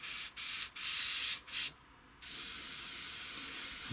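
An airbrush sprays MIG matte varnish as a flat coat onto a 1/32 scale model pilot figure, giving several short hissing bursts, then a brief pause and one long steady spray, close and alone.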